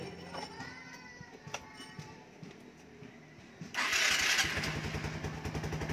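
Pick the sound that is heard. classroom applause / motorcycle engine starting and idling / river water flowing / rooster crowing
motorcycle engine starting and idling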